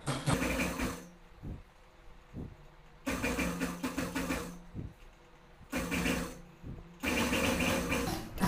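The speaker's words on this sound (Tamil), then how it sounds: "இப்போ நான் வந்து மடித்து தைக்கிறேன் பைப்பிங்கு" Sewing machine stitching folded piping on a patchwork designer patch, running in several loud, close bursts of rapid needle chatter separated by short quieter pauses.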